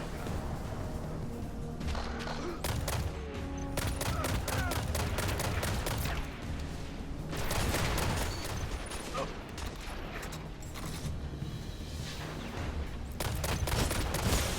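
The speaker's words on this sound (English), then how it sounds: "So if we shoot, this is without me compensating for anything, and it, you know, there's slight kick." Suros DIS-47 scout rifle firing in the Destiny video game, repeated rapid bursts of gunfire with mechanical clatter running throughout, over game ambience and someone talking.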